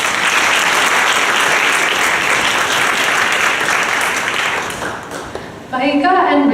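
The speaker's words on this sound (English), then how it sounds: "I think they deserve another round of applause for that" A crowd at a dance performance event claps loudly and steadily, then the applause thins and fades before a voice begins speaking near the end.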